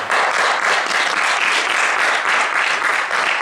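A church congregation at a Sunday service breaks into steady, sustained applause, dense and even throughout with no voices standing out.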